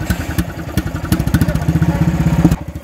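Outboard boat motor on a karakat amphibious vehicle running close by, a rapid steady chugging engine pulse that cuts off abruptly near the end.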